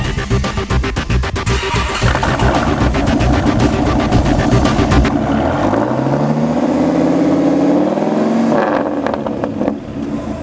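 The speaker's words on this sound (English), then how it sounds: "this is the sound of the T-Rex V10" A Dodge T-Rex truck's V10 engine cranks and catches, then revs loudly with a deep roar that rises and falls before settling, close and dominant.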